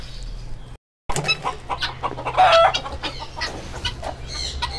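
Silkie and Kadaknath chickens clucking in a pen in the Yelagiri Hills, a busy run of soft, close clucks and calls after a brief silence.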